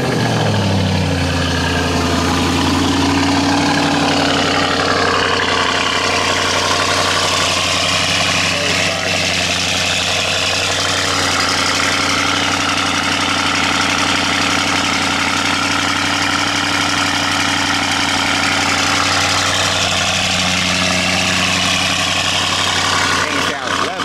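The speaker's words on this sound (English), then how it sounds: "I want to hear the cold start on this" A Dodge Hellcat idles after a cold start, its steady low rumble close and loud throughout, while voices talk over the engine.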